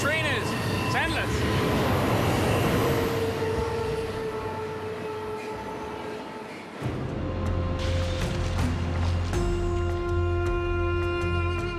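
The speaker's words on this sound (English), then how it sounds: "Pretty impressive how long this train is. It's endless." A long freight train rolls past nearby in the woods, a continuous rumble and clatter of wagons with squealing, tonal wheel screech that shifts partway through as the cars keep coming.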